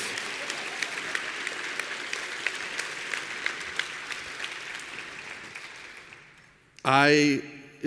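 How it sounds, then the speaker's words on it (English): Audience applause fills the room with dense steady clapping that gradually fades, then a voice begins speaking near the end. "I want to one last time extend a huge round of applause for Taylor."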